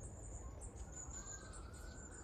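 Birds chirping at a quiet allotment plot in mid September, with faint, distant tweets and calls over a low outdoor background hum.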